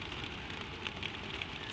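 Gentle rain falls in a steady, dense patter with no breaks, a constant soft hiss that never swells or fades, with a few tiny brighter drips standing out.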